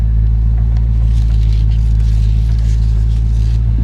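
A 1970 Dodge Coronet 500 with a 440 engine, 2¼-inch exhaust and stock mufflers idles steadily nearby, giving a continuous deep rumble with faint rustling on top.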